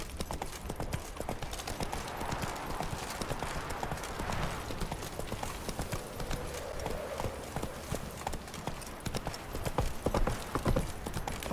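Roach the horse gallops in The Witcher video game, with steady, rapid hoofbeats running through the whole stretch over a busy game soundscape.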